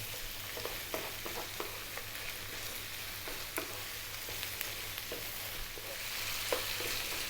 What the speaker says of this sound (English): I really want to cook out the tomato paste